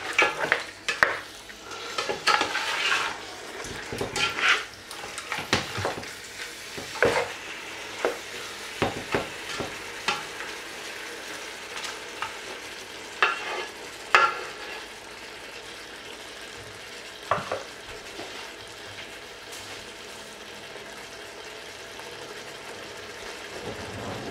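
Chicken sizzles and crackles in hot oil over high heat for curried chicken, with repeated stirring scrapes and utensil clinks against the pan throughout, close and with no talking.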